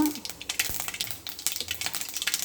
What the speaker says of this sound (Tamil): கடுகு நல்லா பொறிஞ்சி வந்ததுக்கப்புறம்